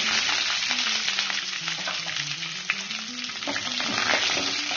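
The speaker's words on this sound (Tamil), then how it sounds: "நல்லா பொன்னிறமான நல்லா ஃப்ரை பண்ணிக்கங்க." Sliced onions with dried red chillies and curry leaves sizzle loudly in hot oil in a pan for Erode pallipalayam country chicken fry, a dense continuous crackle with occasional stirring scrapes.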